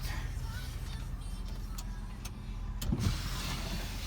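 Power sliding rear window on a 2008 Dodge Ram 1500, a faint low motor hum running steadily with a small clunk near the end, quiet and without talk.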